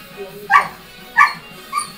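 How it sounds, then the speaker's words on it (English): Dog barking in three short, sharp yips spaced about half a second apart, loud and close against a quiet background. "but the dog is loud"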